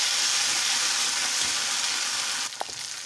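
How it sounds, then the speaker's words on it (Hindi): Veg manchurian frying in a pan with green chilli sauce: a steady, close hiss of sizzling oil that holds evenly, then a brief stir or clatter near the end. "इसी तरह आपको इसे फ्राई करना पड़ेगा।"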